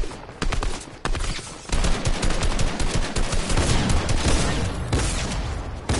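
Sniper rifle fire in a video game: a few sharp, loud cracks over a dense, busy stretch of in-game action noise, with no talking.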